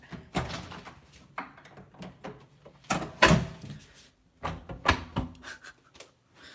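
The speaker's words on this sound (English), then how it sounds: "Making sure the door is totally closed." Indoor door handled and pushed shut, a series of sharp knocks, clicks and thuds spread over several seconds with quiet pauses between, the loudest impacts near the middle and end.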